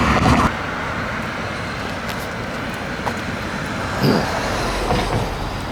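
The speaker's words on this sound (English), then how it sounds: "To see a train, I think." A train rumbles past nearby at Reversing Falls, a steady low roar with broadband rattling noise and a few clanks, lasting throughout at moderate loudness.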